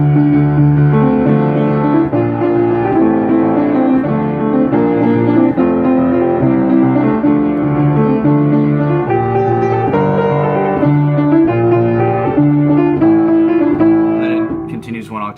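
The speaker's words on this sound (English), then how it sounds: "this first part is probably the hardest and the part that people know best" Piano playing the opening theme from Pirates of the Caribbean, loud and close with driving repeated chords and a fast melody, continuous and alone before fading at the end.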